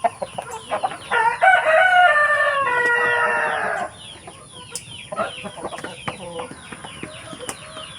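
Chickens at a morning feeding on a small farm, with roosters crowing and hens clucking. One loud, close crow rings out at the start, then scattered clucks and pecking sounds follow, and no one speaks.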